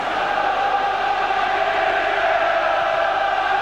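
A Bristol football stadium crowd at a 1991/92 FA Cup tie against Forest gives a steady, dense roar of massed voices that holds at an even level throughout, broad and distant with no single voice standing out.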